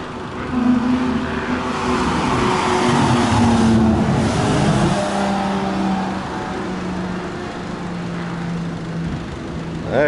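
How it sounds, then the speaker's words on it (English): A pace car at a Porsche race drives past on the track, a loud, sustained engine drone with a steady low tone that swells and then fades slightly as it goes by, with no talking. "here comes the pace car"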